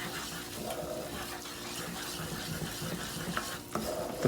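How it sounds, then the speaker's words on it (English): Roux being stirred in a hot enamel cast iron pot, a faint, continuous sizzle with soft scraping and swishing of the spoon, ending in a slightly louder scrape. "We'll give this roux a stir."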